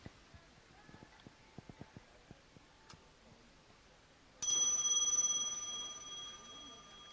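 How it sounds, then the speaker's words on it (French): An old clock at a flea market ticks faintly, then a single bright bell chime strikes loudly and rings on, slowly fading. "Et il sonne, il y a un coucou dedans, non?"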